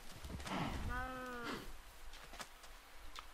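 A cow in Minecraft gives one clear, mid-distance moo lasting about a second, followed by faint game sounds and a few soft clicks.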